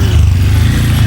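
Auto rickshaw engine on a Konkan road, a loud, steady low-pitched rumble with a dense putter running throughout, close by and alone, with no talking.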